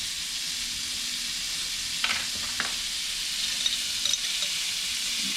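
Onions frying in a pan at turned-down heat give a steady, close sizzle with a few soft clicks of stirring, and no talking.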